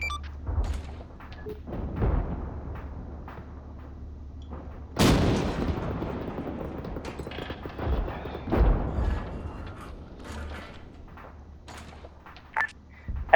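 Gunfire and artillery from the military sim Arma 3 in a desert tank battle: scattered distant shots and several heavy booms, the loudest around five seconds, separated by quieter gaps over a low background hum.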